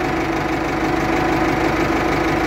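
A Ford 6610 tractor engine idles just after starting, a loud, steady low diesel rumble with an even knocking pulse, close and continuous with no voices.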